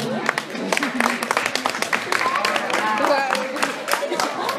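An audience claps steadily and densely in a hall, a warm sustained round of applause greeting a dance teacher seated on the judging panel at a school pageant.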